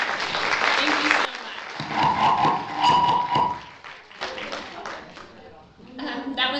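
Applause breaks out for a presenter at a talk on dyslexia, a short burst of clapping that fades and returns in uneven waves, with voices talking over parts of it.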